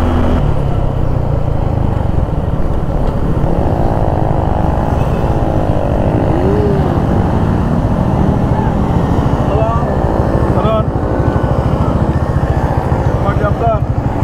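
Motorcycles racing along a road on a night bike tour toward Kuakata, with loud continuous engine roar and passing vehicle whines throughout, while people talk over the noise.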